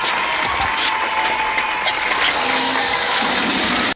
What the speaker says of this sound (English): the crowd's just constantly clapping